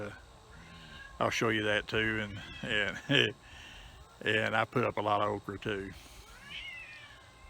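A cat meows and yowls angrily at a dog on a homestead, harmonic cries rising between and after stretches of close speech.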